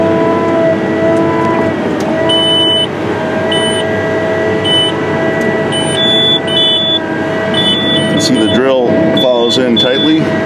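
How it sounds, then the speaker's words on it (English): A Case IH Steiger 420 tractor engine drones while its auto-guidance turn alert sounds a series of short electronic beeps repeatedly for several seconds. "we'll hear a series of beeps to alert the operator it's time to turn around"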